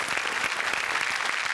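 Loud, dense audience applause for a music composer at a Marathi comedy show, a brief unbroken burst of many hands clapping close by.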